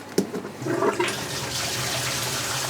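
Aquarium water draining through a siphon pipe during a water change, a steady rushing, gurgling flow that swells after a brief splash and then holds at an even level, close and alone.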